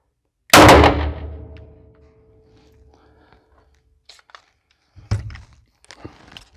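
One sharp, loud gunshot from a SAR 9 pistol at a shooting range rings out and decays, followed by a few faint clicks and soft handling noises.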